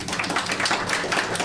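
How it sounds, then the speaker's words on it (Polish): A live podcast audience claps in a close, dense burst of applause, steady and loud throughout the short stretch. "Wielkie brawa dla mnie i dla was."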